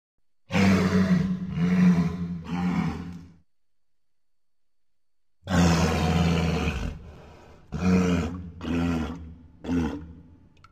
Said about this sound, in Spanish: morsa